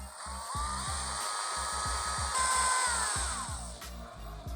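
A power driver runs T25 screws into a headlight mount on a 2022-2025 Harley-Davidson Low Rider ST, giving short whirring bursts and rapid clicking pulses that rise and fall over a few seconds, heard close and alone.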